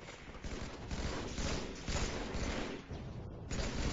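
Dense, continuous gunfire from a Halo 3 Team Slayer match, with sniper rifle shots cracking among rapid bursts and thuds that run steadily throughout.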